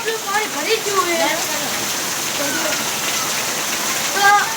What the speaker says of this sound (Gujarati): વરસાદ એવો આવે ને અત્યારે કે આ તો પાણી ભરી ગયું છે